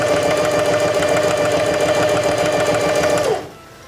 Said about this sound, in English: Release the reverse lever, and sew down the seam